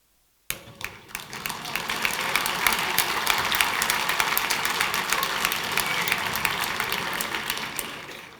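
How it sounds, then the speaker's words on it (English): A lecture-hall audience in Argentina breaks into laughter and clapping, a sudden onset followed by dense, sustained applause with sharp individual claps throughout, fairly distant in the room. "Yes, you laugh and clap."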